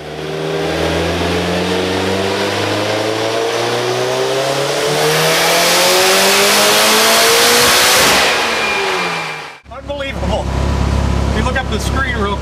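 Mitsubishi Evo X with a new built engine and turbo kit revving on a dyno, a loud rising pull climbing steadily toward about 7,000 rpm before cutting off abruptly into lingering turbo and exhaust noise.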